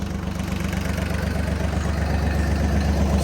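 A 35 HP tractor engine idles nearby with a low, steady chugging throb, a rhythmic knock running evenly throughout, no voices.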